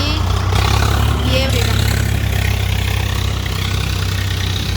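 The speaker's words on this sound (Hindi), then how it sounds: "ये ट्रैक्टर घुसेगा अभी" A tractor engine idles steadily nearby with a low, rumbling chug, with faint background noise and no clear speech over it.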